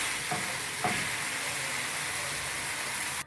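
Chicken breasts seasoned with lemon zest and spices fry in a pan, giving a loud, steady, close sizzle that fills the whole stretch with no talk.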